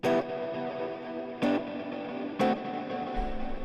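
Distorted electric guitar through an Axe FX 3 plex delay set to 0 ms rings out in sustained chords, with three sharp strummed attacks roughly a second apart and no separate echo tail.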